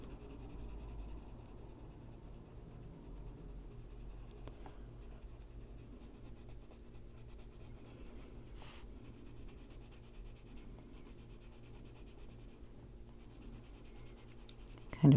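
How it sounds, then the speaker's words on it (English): Colored pencil shading a Christmas coloring book page of nutcrackers, a steady soft scratching and rubbing as the page is burnished with pressure, quiet and continuous throughout. "Kind of burnishing the page now."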